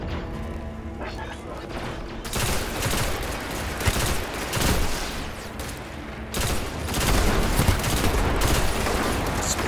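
Rapid gunfire in the video game Destiny rattles in dense bursts, a sustained fusillade of shots and booms that swells louder toward the end, with no talk over it.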